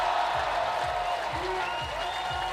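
Crowd applause and cheering at a bouldering competition final in Graz, a continuous broad wash of clapping from a large audience with low rhythmic thumps underneath and faint voices mixed in.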